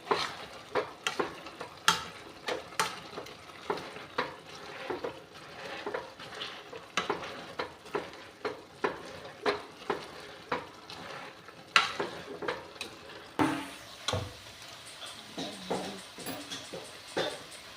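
Drumstick flower sabzi being mashed and stirred in a pan, a steady series of close, soft thuds and scrapes of a utensil against the pan over a low sizzle, roughly one stroke per second.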